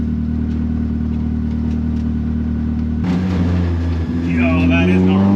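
A Honda CRX idling steadily, then pulling away as the engine note jumps and climbs, loud and close, with people talking over it.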